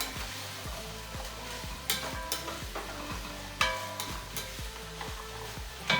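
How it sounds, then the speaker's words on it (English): Chopped carrots and sweet potato cubes are stirred in a pot over a low, steady sizzle, with rhythmic scraping strokes and occasional louder clacks of the spoon on the rim, and no one talking. "I'm just gonna mix this around so that they can incorporate together."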